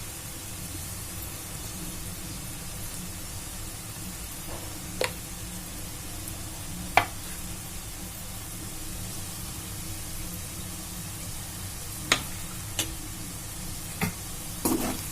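Spicy chicken fry being stirred in a pan, a steady soft sizzle under occasional sharp clicks and scrapes of the spoon against the pan.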